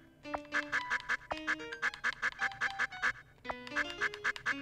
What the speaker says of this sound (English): I like the duck sounds on the menu.